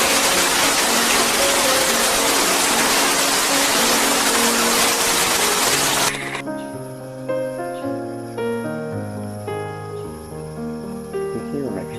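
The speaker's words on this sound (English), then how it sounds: "the rain's starting to come down" Wet-season afternoon rain near Darwin pours down in a loud, dense hiss, then cuts to a quieter passage with no rain and steady tonal sounds.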